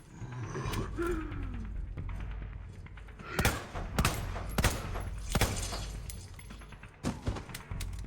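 Handgun shots from the game Resident Evil 2 crack out sharply in a ragged series of about a dozen close, loud reports, spaced irregularly and bunched toward the end, over a low ambient rumble.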